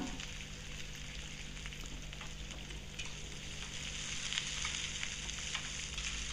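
Chopped garlic and three cut onions fry in oil with a continuous, even sizzle and faint crackle, steady and close at moderate volume, with no voices.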